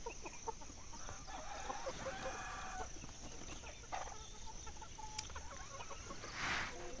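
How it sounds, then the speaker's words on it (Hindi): A Kadaknath rooster clucking outdoors amid a quiet farmyard background, with short intermittent calls and one louder burst near the end. "हमारे ये जो कड़कनाथ मुर्गा है, ये मुर्गी नहीं है, ये मुर्गा है"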